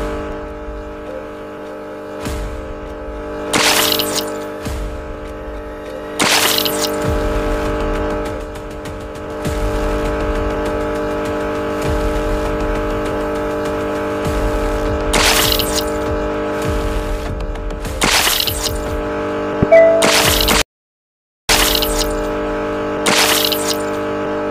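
A car engine drones steadily in the Pink Monster Life Challenge video game, broken by several loud, sharp crashing bursts spaced a few seconds apart and a brief dropout near the end, with no talking.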